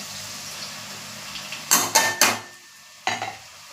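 Finely chopped tomato is stirred into frying onions in a pan: a few sharp spoon scrapes and clanks against the metal over a low background sizzle, then a last stir.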